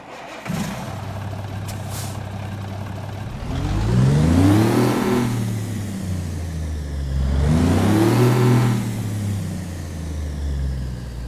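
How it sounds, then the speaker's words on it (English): A Cummins NTC Big Cam diesel engine in a Kenworth W900 in American Truck Simulator idles, then revs up twice in long rising-and-falling surges, with a deep rumbling drone between the revs. "That glorious sound is none other than the Cummins NTC Big Cam engine mod"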